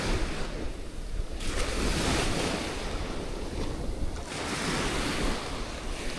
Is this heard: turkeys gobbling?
no